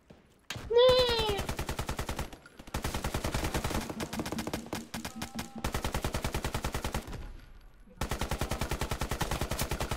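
Rapid automatic gunfire from the video game Deadline, several long bursts of fast regular shots separated by short pauses, loud and close.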